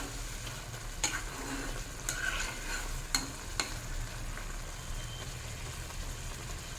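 Shrimp being stirred with coriander-cumin powder in a pan over high flame for a jackfruit-seed shrimp curry, with a steady low sizzle and a few sharp spatula scrapes, no talking.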